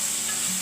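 Red chili and turmeric being stirred into hot oil in a pan for a Konkani-style Mangalore prawn curry, a brief continuous sizzle with a soft scrape of the spoon and no talking.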